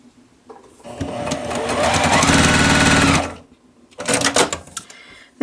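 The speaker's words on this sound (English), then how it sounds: "go ahead and sew these 2 center pieces together" A sewing machine runs steadily for about two seconds while stitching two quilt center pieces together for an improv bull's eye block, then stops and gives a second short, louder burst of stitching.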